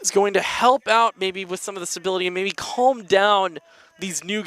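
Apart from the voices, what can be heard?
No everyday noises stand out.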